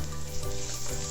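Chopped banana sautéing in oil and ghee in a pan, giving a steady close sizzle with soft stirring scrapes throughout, no voices.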